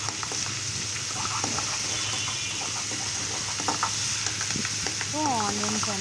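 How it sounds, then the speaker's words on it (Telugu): Chopped onions fry gently in ghee for fried rice, making a steady low sizzle with light stirring clicks. It is close and fairly quiet, and a brief voice-like murmur comes near the end. "సో ఆనియన్స్ అనేది కొంచెం ఫ్రై అవుతుంది గీలో."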